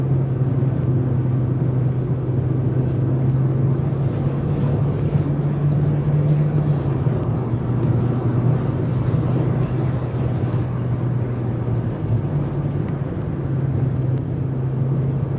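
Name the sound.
Mazda MX-5 Miata NA RS Limited driving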